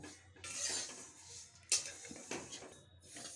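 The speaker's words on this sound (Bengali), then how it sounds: "তিলটা আমার ভাজা হয়ে গেছে এর থেকে বেশি ভাজবো না" Sesame seeds dry-roasted over a low flame in a pan for a sesame sandesh sweet; quiet scraping and rattling stir strokes with a few sharper metallic clinks, close, no talk.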